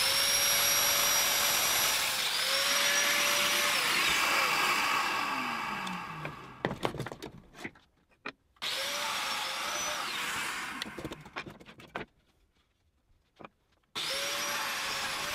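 A domino joiner whines loudly as it cuts mortises into hardwood frame rails, running in long sustained bursts separated by clatter, handling noise and short silent pauses.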